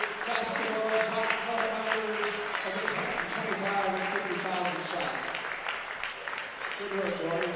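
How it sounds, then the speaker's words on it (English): A crowd in a school gym applauds the champion boys' basketball team and shot club members, steady clapping throughout with a voice carrying over the top. "Let's give them all one more round of applause"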